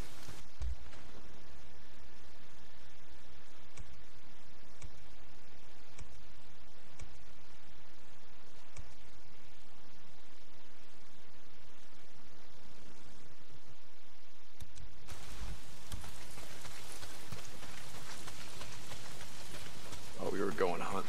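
Heavy rain falls in the zombie apocalypse video game Days Gone, a steady dense hiss running throughout, with a sudden shift in texture partway through.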